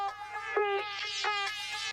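A time-stretched Splice loop sample, warped in a music production track, plays a bright, buzzy run of shifting harmonic tones with smeared chord changes and a low steady hum beneath, heard alone.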